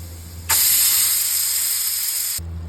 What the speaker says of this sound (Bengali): এবার আমি এর সিটিটা বাইরে বের করে দেব আর এর গ্যাস বাইর করে প্রেসার কুকারটা খুলে